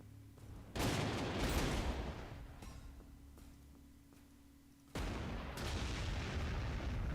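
Artillery fire in the WWII strategy game Panzer Corps 2 at Dunkirk: two heavy booming blasts, one near the start and one past the midpoint, each with a long rumbling tail, loud and alone without voices.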